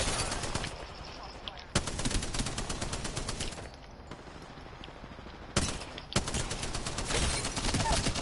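Sustained automatic weapon fire from an Apex Legends firefight, dense rapid bursts running nearly continuously with sharp loud onsets and brief lulls, voices talking faintly underneath.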